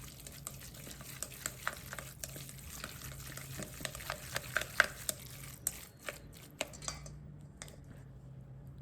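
Salted dumpling filling with oyster sauce is mixed in a bowl, giving a steady run of soft, wet clicks and scrapes from the utensil that thin out toward the end.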